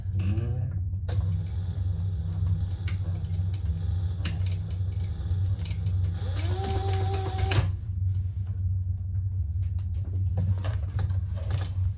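A sewing machine runs steadily, basting a raw edge on a crossbody bag, with a continuous low motor hum and rapid needle stitching, a brief rising whir partway through, and close handling clicks.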